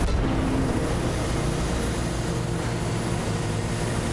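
Helicopter in the video game Mirror's Edge, a steady loud broadband rotor and engine roar that holds evenly throughout with no talk over it.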